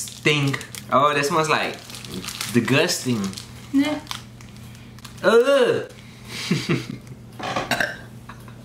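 A burp during a taste test of a South Korean snack box, a short low belch midway among several people talking and reacting loudly nearby.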